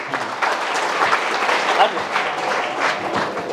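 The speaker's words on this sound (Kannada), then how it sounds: "ಜೋರಾದ ಚಪ್ಪಾಳೆ ಬರಲಿದೆ" A crowd at an event honouring an Agniveer army recruit breaks into loud, sustained applause, many hands clapping together at a steady level for the whole stretch, with some voices mixed in.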